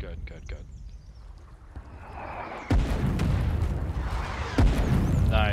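Artillery fire in the video game Foxhole: deep booms and a rumbling barrage, with a loud blast that cuts in sharply and another heavy hit near the end. Voices talk over the firing.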